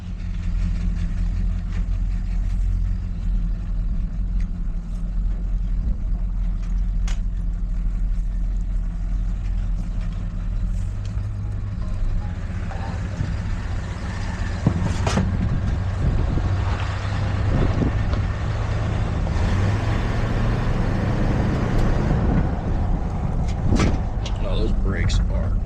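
A 1981 Chevrolet C20 Scottsdale truck rumbles along at low speed with a steady engine drone, and a voice talks over it at times.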